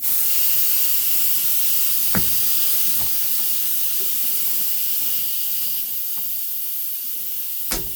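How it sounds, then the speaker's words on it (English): Airbrush hissing a steady stream of air at about 20 psi, fed by a Gaahleri Apex Force air compressor; a continuous bright hiss runs throughout with a few faint clicks and no talking. "I'm going to hold down the airbrush. I'm going to dial it into about 20 psi."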